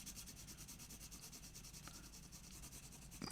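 Graphite pencil shading over paper, a soft continuous rubbing with steady back-and-forth stroke texture, close and quiet, alone throughout.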